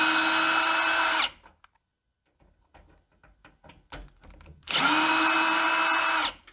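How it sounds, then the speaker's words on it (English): A power drill backs two screws out of a door knob plate, with two loud whirring bursts at the start and end separated by quiet handling clicks and taps. "The next phase is to pull these two screws out. They're holding the plate in place."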